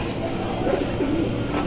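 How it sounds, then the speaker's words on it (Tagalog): Pigeons coo softly in low, rolling calls, a few overlapping phrases heard close against a steady background hum. "Ayan sila mga kalapatids."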